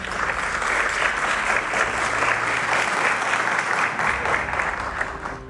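Sustained crowd applause at a school directors' award ceremony, many hands clapping steadily at a loud, even level before easing slightly at the end.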